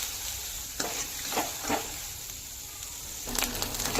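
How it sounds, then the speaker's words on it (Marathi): Masala for a rustic Maharashtrian kala masala misal stirred and roasted in hot oil, a steady close sizzle broken by a few sharp scraping stirs of the spoon against the pan, with no voices. "तेलात मिक्स करून घ्यायचा आहे सगळा मसाला आणि तेल सुटेपर्यंत हा मसाला भाजून घ्यायचा आहे।"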